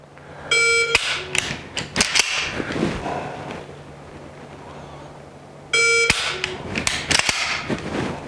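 A pistol fitted with a Mantis dry-fire trainer clicks sharply as the trigger is pressed, each snap followed by electronic beeps, with two distinct bursts of clicks and tones separated by a quiet pause.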